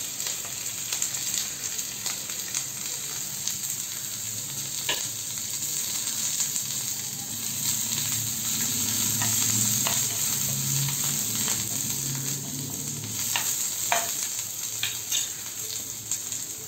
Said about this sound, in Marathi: कांदा छान लाल परतून घ्यायचा आहे